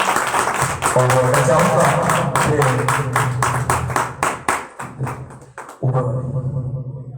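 Applause and clapping from a church congregation at a Sunday service, rising as a dense burst of claps that fades out while someone speaks over it.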